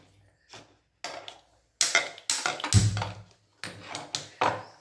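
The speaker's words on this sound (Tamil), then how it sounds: "இப்போ அடுப்பை பற்ற வச்சுக்கிறேன்." A kitchen stove is lit while bitter gourd poriyal is being cooked, giving a series of close, sharp clicks and pings in uneven bursts with brief silences between them.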